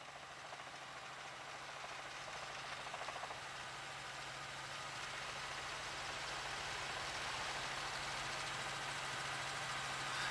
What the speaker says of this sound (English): And they're up over it, the Firebird helicopter.